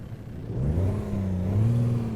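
A Cummins 350 Big Cam truck engine in a Kenworth W900 idles in the American Truck Simulator game, giving a steady low rumble that holds even and close, with no talk.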